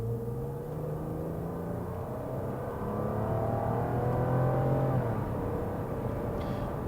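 A Toyota RAV4 V6 Sport engine from the 2000s revs up steadily at about three-quarter throttle, its pitch climbing as the SUV accelerates, heard from inside with a constant road rumble underneath.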